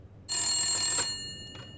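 A telephone rings once in the survival game The Long Dark. The bright, loud electronic trill lasts under a second and then fades, with a faint second pulse after it.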